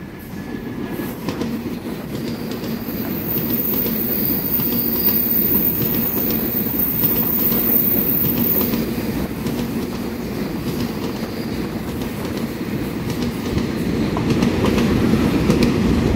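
A twelve-car EMU3000 electric express train passes close by, its steady rumble and rhythmic wheel clatter building and holding loud for about sixteen seconds, with faint high wheel squeal and no voices.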